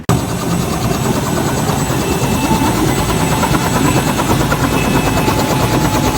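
An air ambulance helicopter roars loudly and continuously, its rotor producing a dense, throbbing drone from start to finish.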